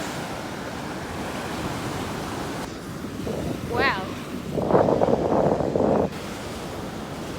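Big ocean waves roll in at a beach near a jetty, a continuous surf roar buffeted by heavy wind noise on the microphone. A person briefly exclaims and speaks partway through.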